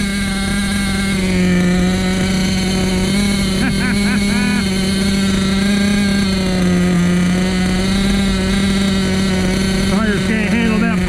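An OFNA Ravenger 9.5 nitro RC car runs with a high, buzzy two-stroke engine holding a steady pitch, with brief revving swells and warbling pitch changes, while people talk nearby.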